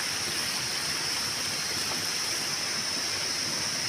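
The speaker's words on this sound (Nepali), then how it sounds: "गाईमुखे धारो" Steady rushing water pours from a cow-mouth stone spout at a Nepali village water tap, a constant full splashing flow close by with no voices.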